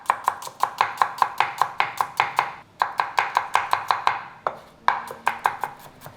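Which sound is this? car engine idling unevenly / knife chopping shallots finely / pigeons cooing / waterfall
knife chopping shallots finely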